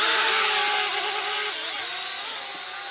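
An Eachine E52TX folding selfie quadcopter drone spins up for an automatic takeoff, its small motors giving a loud, close, buzzing whine that rises and wavers in pitch, then eases slightly as it lifts away.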